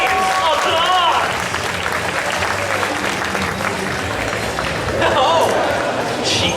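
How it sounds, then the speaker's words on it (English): Audience applause fills a cosplay costume contest at a spring anime convention, a dense steady wash of clapping with cheers and shouts mixed in, loud throughout and swelling again near the end. "Audience, applause!"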